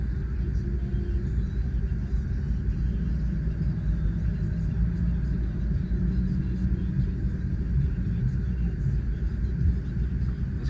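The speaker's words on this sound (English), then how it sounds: "This car is so quiet without the exhaust." A race car idles with its exhaust removed, giving a steady, continuous low engine rumble in the pre-grid area that stays even throughout.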